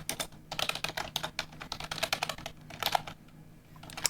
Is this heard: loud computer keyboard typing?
yes